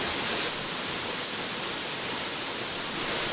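Sweden Creek Falls, a waterfall in Arkansas running high after heavy rain, gives a continuous, even rushing roar with no breaks or talk.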